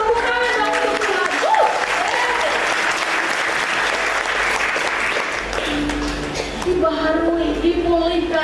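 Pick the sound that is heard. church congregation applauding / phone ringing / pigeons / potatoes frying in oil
church congregation applauding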